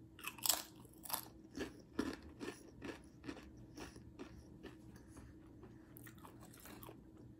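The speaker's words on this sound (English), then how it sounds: "I'm gonna try these chips" Seasoned chips being bitten and chewed: a sharp crunch up front, then a steady series of close, quiet crackling chews that gradually soften.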